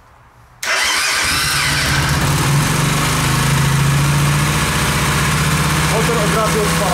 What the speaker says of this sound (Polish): Motor od razu odpala.